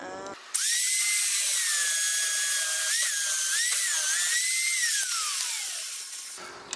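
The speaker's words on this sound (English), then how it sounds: "now it's plugged in, so I'm gonna drill all the way down" A power drill whines loudly and steadily for several seconds, its pitch dipping as the bit bites into wood, then winding down before stopping.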